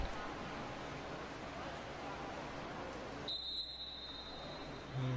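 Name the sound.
referee whistle at a water polo game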